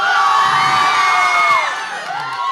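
A large crowd at a celebration in Kottarakkara cheers, shouts and whoops loudly and continuously, close and full throughout with no distinct talk.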